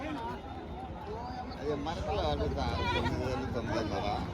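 Goats bleat repeatedly in a wavering chorus amid a noisy crowd of voices at a goat market in Pileru, close and fairly loud throughout.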